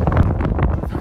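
Strong, cold mountain wind at about minus ten degrees buffets the microphone on a peak, a loud, continuous low roar that swells and dips unevenly through the whole moment.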